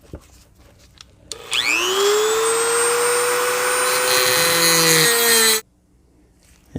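A rotary cutting tool spins up with a rising whine and grinds into the die-cast metal front of a Hot Wheels Dodge Mirada toy car, a loud, steady high-pitched buzz for about four seconds that then stops abruptly.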